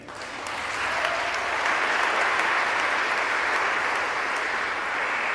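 A church congregation applauds during a jubilee Mass, a steady, dense wash of clapping that swells quickly and holds loud and even throughout, with no voices standing out.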